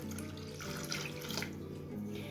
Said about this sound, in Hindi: अब लस्सी को डालने के बाद में 1 गिलास आपको पानी का फिर से ऐड करना है